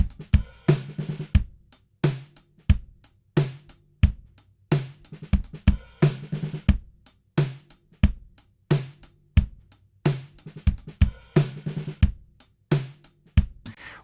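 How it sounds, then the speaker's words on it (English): A kick drum, heard with a flat EQ setting and a D6X microphone, thumps in a steady, repeating groove of punchy hits within a full drum pattern, with no voices. "Which to me is a very nice organic sound for a kick drum when in the mix with everything else."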